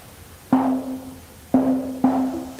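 An Elektron Syntakt synth plays three separate plucked tones soaked in heavy reverb. Each starts with a sharp attack and rings out with a sustained pitch and a long washy tail.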